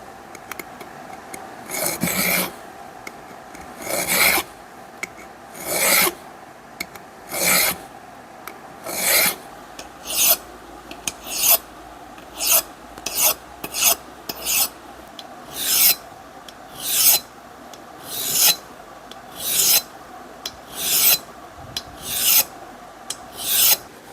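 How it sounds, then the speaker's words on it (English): Rough metal Simpex vise being filed and sanded by hand, a rasping stroke repeated at a steady rhythm, roughly one every second, loud and close with brief pauses between passes. "I've been filing and sanding on this for a couple hours already."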